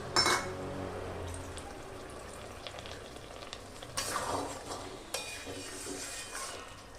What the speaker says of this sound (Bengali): গাজরটাকে আমি দুধের মধ্যে এইভাবে ভালো করে ফেলে ফেলে কড়াইয়ের গায়ে গায়ে সেদ্ধ হতে দেবো।